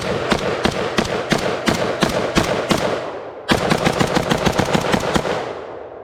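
A Beretta AR70/90 semi-automatic rifle fires a long string of loud, rapid shots at an outdoor range, with a short pause before a second fast string of shots.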